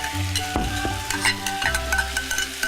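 Hakka abacus seeds (taro dumplings) stir-fried with shredded pork in a dry pan without oil, a steady close sizzle broken by repeated scraping strokes of a spatula.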